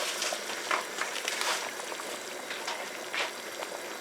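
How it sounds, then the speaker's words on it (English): Turkey light soup boils in a pot, a quiet, steady bubbling hiss with small irregular pops and gurgles throughout, heard alone without talk. "Alright, so this is boiling."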